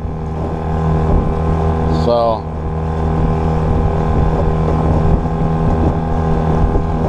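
Motorboat engine running steadily on choppy water in sudden wind, with heavy wind buffeting on the microphone throughout and a brief word spoken near the start.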